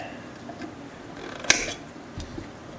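Nippers snip through mandolin fret wire in a single sharp, bright metallic click near the middle, followed by faint handling clatter, close and alone.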